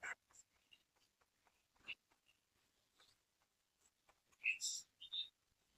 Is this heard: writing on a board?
yes